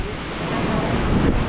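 Sea waves washing in at a Boracay beach, with steady wind buffeting the microphone; a continuous broadband surf roar that swells slightly toward the end, no voices.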